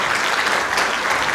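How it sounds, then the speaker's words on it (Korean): An audience applauds at a Korean advisory council inaugural ceremony in New Zealand, a steady, full round of clapping from many hands, loud and continuous for the whole moment. "다시 한번 박수 부탁드립니다."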